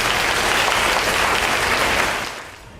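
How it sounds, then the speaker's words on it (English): An audience in a high school senior awards ceremony applauds the award recipients with dense, steady clapping that fades toward the end. "Please give our recipients a round of applause."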